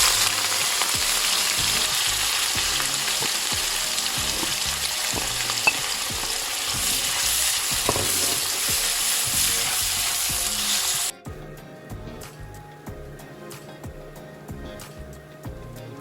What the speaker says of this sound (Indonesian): Ini numisnya pakai minyak kelapa. Kemudian semua bahannya digoreng.